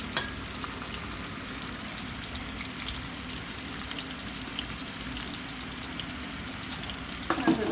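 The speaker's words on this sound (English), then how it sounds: "And put it in the grease, it's gonna pop" Cornmeal-battered catfish, its batter made with milk and whole corn kernels, sizzles steadily in hot grease, a loud, close, continuous frying hiss with a few sharper pops near the end.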